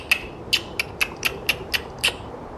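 A person makes about eight sharp clicking noises with the mouth, imitating a killer whale. The crisp clicks come in a quick, slightly uneven series, close and alone.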